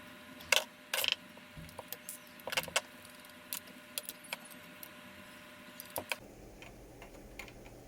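Small metal clips behind a Toyota Alphard's JBL stereo are bent with a tool, giving a string of light metallic clicks, snaps and ticks, close and intermittent, with no one talking.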